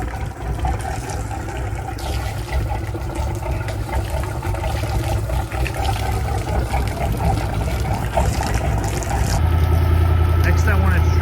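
Twin OMC 460 inboard engines on a 32-foot Sea Ray Pachanga idle roughly with a steady low rumble and splashing water, with a voice speaking over it.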